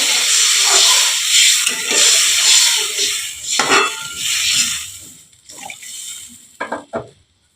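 Water poured into a hot pan of fish curry with potato stems, bursting into loud steamy hissing that gradually dies down to a quieter bubbling, close by.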